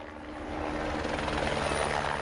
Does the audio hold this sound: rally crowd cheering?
no